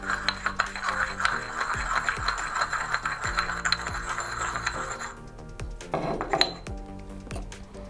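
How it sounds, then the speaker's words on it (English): A borax cone is ground with water in a dish to make flux for silversmithing, giving steady gritty scraping with small clinks for about five seconds, then a few quieter rubs and taps. "I'm just gonna show you with the borax and cone as well. It's exactly the same. I'm just gonna mix this a bit more."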